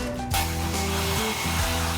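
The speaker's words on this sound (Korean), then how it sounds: "드라이기는 뭐 하려고요? 산타 말려주려고요." A hair dryer runs steadily to dry a horse after it ran outside, a continuous close whirring drone with fan hum that keeps going throughout.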